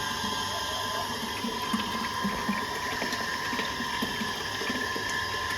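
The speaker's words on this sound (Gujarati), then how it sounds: "જો આમ ફુવારો થાય" Water sprays and splashes continuously, with a steady mechanical hum underneath and faint clicking.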